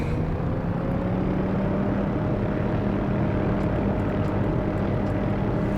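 An aircraft in the DCS flight simulator takes off with a loud, constant engine drone and propeller roar that holds steady throughout, with no voices.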